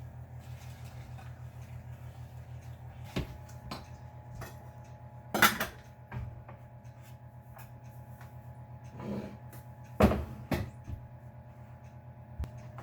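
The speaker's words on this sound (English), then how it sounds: "I'm going to stir this until the chocolate chips are completely melted." Spoon stirring melting chocolate chips in a metal pot on the stove, faint scraping and occasional clinks against the pot over a low steady hum of kitchen appliance.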